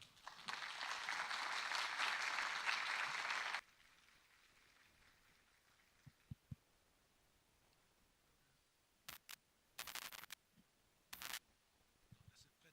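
Applause from a lecture-hall audience at a university conference, a dense, even wash of clapping for a few seconds that cuts off abruptly, followed by scattered clicks and knocks in a quiet room.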